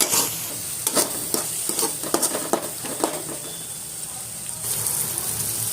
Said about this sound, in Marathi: मसाला भाजून तयार आहे